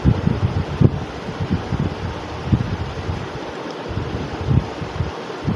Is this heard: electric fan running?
yes